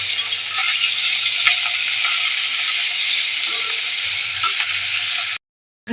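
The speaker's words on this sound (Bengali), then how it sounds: "শুটকি মাছগুলিকে ভেজে নেব" Dried fish (shutki) frying in hot oil in a home kitchen, a steady dense sizzle with faint crackles throughout, cutting off abruptly near the end.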